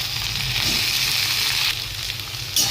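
Kochur loti, taro stolons, frying in hot mustard oil in a kadai: a continuous close sizzle that eases slightly partway through, with a brief fresh burst of hiss near the end.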